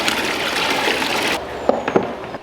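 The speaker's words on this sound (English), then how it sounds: "Then we can add water from the pond in the garage into the tote" Pond water from a garage pond pours and splashes steadily into a plastic tote holding largemouth bass, a continuous rushing stream that cuts off, leaving a few drips and small splashes.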